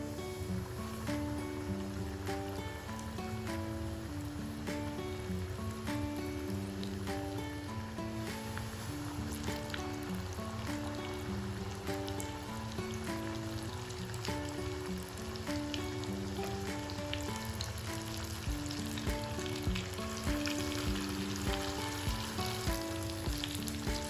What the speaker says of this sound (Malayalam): ഇനി നമുക്കിത് എണ്ണയിലിട്ട് ഫ്രൈ ചെയ്തെടുക്കാം.